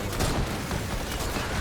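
Rapid gunfire from a weapon in the video game Fortnite: Save the World, a dense, continuous burst of shots over a noisy game background.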